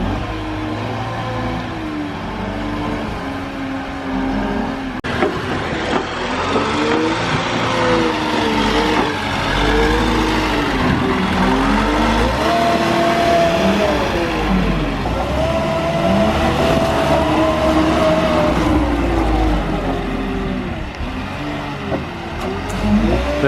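A Telehawk telehandler scrapes the floor of a cow shed, its engine droning and rising and falling in pitch as it revs and works back and forth. The engine is loud and close throughout, with no voices.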